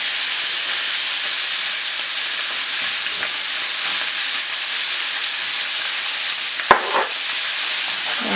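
Butter sizzling loudly in a hot pan with steak, a steady close frying hiss throughout, with a brief clink of a utensil near the end.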